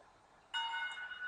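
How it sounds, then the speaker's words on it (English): A school bell rings out to mark the start of lunchtime in the visual novel game Katawa Shoujo, a sustained bright electronic tone that starts abruptly and holds steady, alone without talk. "The bell heralding the beginning of lunchtime rings out, shaking me out of my thoughts."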